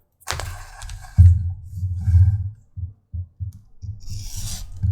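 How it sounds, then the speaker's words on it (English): An edge beveler trimming the back edge of a cowhide leather belt, heard as close, rasping rubbing strokes in short bursts with thumps and pauses between passes. "then it's taking the edge beveler to the back of it"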